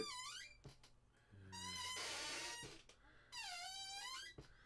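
A squeaky chair gives a series of high, drawn-out squeaks with rising and falling pitch, loud and close, coming in long bursts separated by short pauses.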